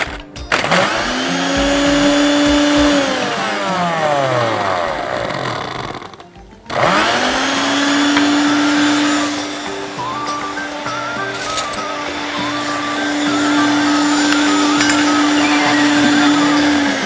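A loud kitchen blender crushes ice for a prickly pear and mango smoothie, whirring steadily with a pitch that drops and rises as the blades bite, briefly stopping partway before restarting and running on.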